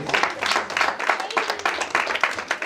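Audience at a 2019 sports award gala applauds an honoree, a steady wash of clapping with scattered louder claps and some voices mixed in, fairly close and continuous throughout.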